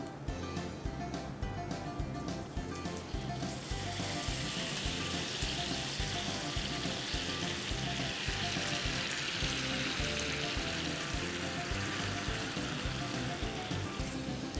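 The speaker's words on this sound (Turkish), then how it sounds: "Artık şerbeti dökebilirim." Sugar syrup poured over hot künefe in a home kitchen sizzles and crackles steadily, a dense continuous frying hiss that swells after the first few seconds and carries on without talk.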